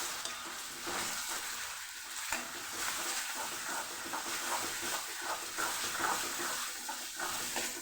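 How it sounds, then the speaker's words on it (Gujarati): Garlic chutney being sautéed with onions and grated tomato in a pan, a close steady sizzle broken by scraping stirs, with no talking over it. "આપણે લસણવાળી જે ચટણી લીધેલી એ ઉમેરી દઈશું, એને સરસ સાતળી લઈશું"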